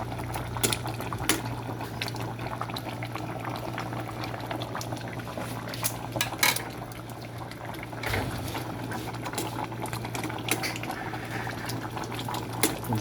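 Fish and vegetables simmer in coconut milk at a steady boil, giving a constant bubbling and popping close by with occasional light clinks, and no talk.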